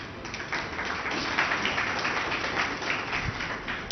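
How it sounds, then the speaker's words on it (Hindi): An interview audience breaks into sustained applause, a steady wash of clapping from a large crowd that continues evenly for several seconds. "देखिए, तालियां बता रही हैं कि लोग आपसे यही सुनना चाहते थे जो आपने अभी कहा।"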